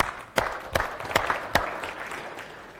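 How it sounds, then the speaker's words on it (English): A conference audience at FOSDEM, the open-source developer event, claps in a few sharp, separate bursts over a low hall murmur. The claps stay fairly close and moderately loud, with no voices. "So big applause for FOSDEM."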